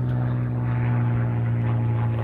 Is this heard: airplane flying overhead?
yes